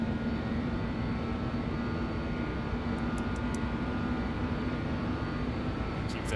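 JustFlight BAe146 jet engines in X-Plane 12 roaring at high power during acceleration, a steady, loud broadband rush with a sustained hum underneath and a few faint clicks.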